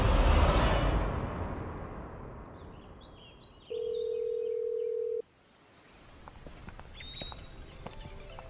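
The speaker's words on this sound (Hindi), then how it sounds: "किसका फोन है" A telephone in a dramatic scene gives one steady electronic tone lasting about a second and a half, clear and fairly loud in a quiet room with faint background rustles.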